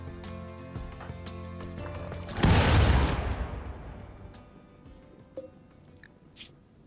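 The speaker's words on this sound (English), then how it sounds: "Hellcat rifle." Gunfire from a Hellcat rifle in the RimWorld video game: a loud, dense burst of shots erupts midway and trails off into a rattling decay, followed by a few fainter scattered pops.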